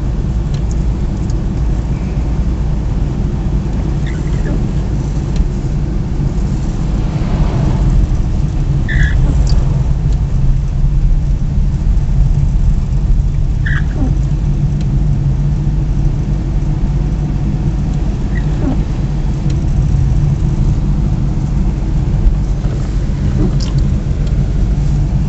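Steady loud engine drone and road rumble from a car driving slowly on a wintry road, about 30 km/h, constant throughout with faint occasional clicks.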